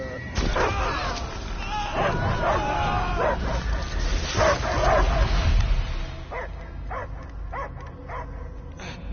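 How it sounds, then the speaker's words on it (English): Dog barking and whimpering mixed with Guardians of the Galaxy game sound effects and low rumbling, with a voice speaking over it, then short sharp yips near the end. "I hear only barking"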